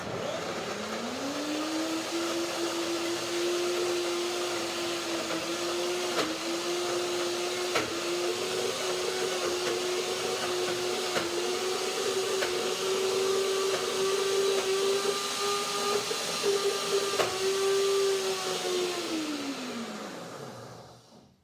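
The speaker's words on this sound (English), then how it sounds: "I want to make my cheese blender dance." A blender whirs steadily for about twenty seconds, its motor winding up at the start and spinning down at the end.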